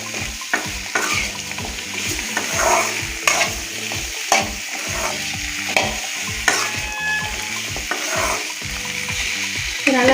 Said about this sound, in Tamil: இந்த காய்கறியெல்லாம் சேர்த்து நல்லா கிளறி விட்டுக்காங்க.